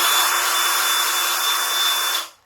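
A cordless drill runs forward to tighten its chuck jaws, a loud close whirring motor held steadily for about two seconds before winding down and stopping.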